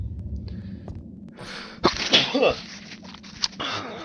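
A close, forceful sneeze with a sharp intake before it, followed by a breathy exhale, over a low background rumble.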